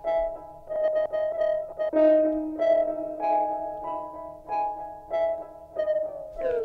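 Reverb added to a drum beat in the BeatMaker 3 app using the Effectrix effect, a steady rhythmic pattern of tonal hits with sustained tails that wash into one another, playing alone and fairly loud.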